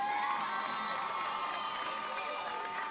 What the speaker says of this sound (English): Please give a round of applause for senior class princess, Miss Jasmine Alanis.